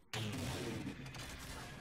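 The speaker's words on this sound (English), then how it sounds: "Nailed him with the incineration cannon." A sudden loud blast from the incineration cannon in the video game Halo 4 rings out and lingers in a rumbling, sustained roar.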